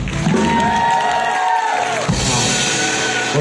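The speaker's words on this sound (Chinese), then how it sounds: "掌声给杨翠老师" An audience at a live music and book event in a venue claps and cheers for a speaker, with loud whoops and shouts that dip briefly mid-way and then swell again.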